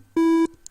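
A short, softer chiptune tone from a tracker's third channel, one held note of about a third of a second, rounder and more muted than a pulse wave, starting and stopping abruptly with a faint click after.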